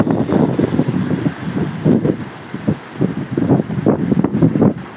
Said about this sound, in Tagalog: Ngayon, pawalaan na. Angin na lang.